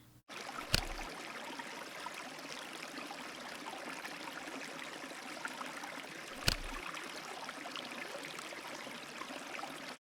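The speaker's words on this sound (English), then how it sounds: "The background sound here is running water in a river." A river's running water flows in a constant soft, even rush with no break, steady and fairly quiet, with two brief sharp clicks standing out over it.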